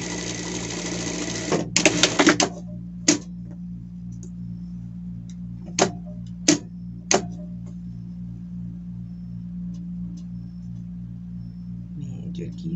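A sewing machine sews a seam on a small denim pet shirt, starting with a loud whirring burst that stops abruptly. It is followed by a low steady hum and a few isolated sharp clicks spaced apart.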